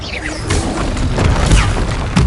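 A Confringo blasting spell in Hogwarts Legacy goes off as a booming, crashing burst with whooshing sweeps and a final sharp crack, loud and close, with no talking.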